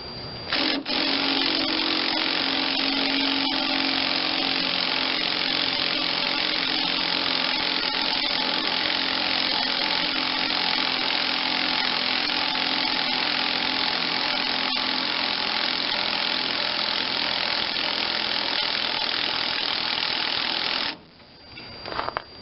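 A power tool rattles the nuts off a Tecumseh HH100 engine on a Bolens G10 Husky 1055 tractor. It makes a loud, steady, close mechanical chatter that lasts the whole stretch and drops briefly just before the end.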